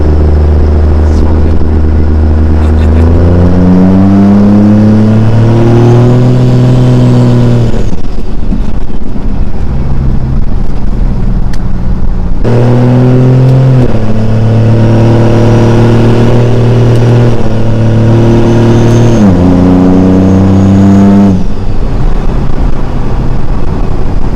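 A loud 289 engine revs up and down in long sweeping pulls, dropping back to idle between two bursts of revving.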